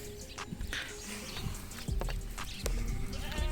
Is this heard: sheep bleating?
yes